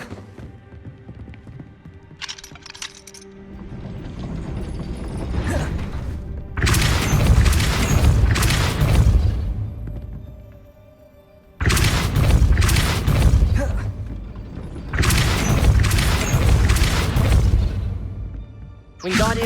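Depulso spells land in Hogwarts Legacy combat, with heavy booming impacts in loud surges lasting several seconds each, separated by quieter stretches, and voices heard under the blasts.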